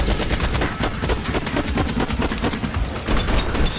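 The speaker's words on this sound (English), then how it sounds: "Lots of guns." Rapid, loud bursts of gunfire and machine-gun fire pound continuously throughout The Matrix: Path of Neo PS2 game trailer, dense overlapping shots with no pauses.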